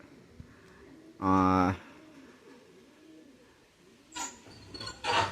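Pigeons at a breeding loft coo in a loud close burst, followed by softer, scattered calls later on, with a quiet low hum of background noise in between.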